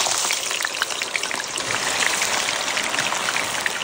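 Sausawan and squid balls frying in hot oil in a home kitchen give a steady, dense crackling sizzle throughout, close and continuous with small pops scattered across it.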